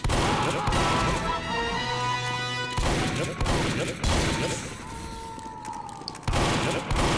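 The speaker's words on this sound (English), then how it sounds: "As you can see, the well placed shots do take them down fast." Shotgun blasts from Team Fortress 2 gameplay as the Pyro class, sharp booming shots in quick succession over a dense, continuous wash of in-game explosions and background noise.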